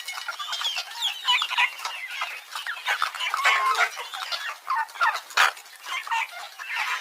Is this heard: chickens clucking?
yes